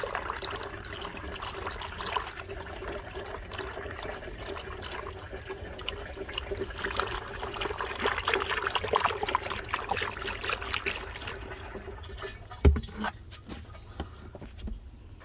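Transmission fluid draining during a drain-and-fill flush on a 2012-2016 Hyundai Equus or Genesis eight-speed gearbox, a steady close trickle and splash of liquid running continuously, with a single sharp knock near the end.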